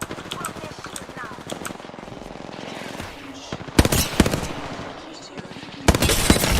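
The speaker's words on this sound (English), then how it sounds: "Taking damage. Shifting up, I'm getting shot at." Rapid bursts of automatic gunfire from a video game rattle in repeated volleys, with loud close bursts near the middle and end, over a player's steady talk.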